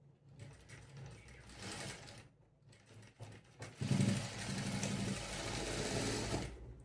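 An electric sewing machine stitches a seam on a boat-neck A-line kameez, whirring close and steady in two runs with a brief pause between them, the second run louder and longer.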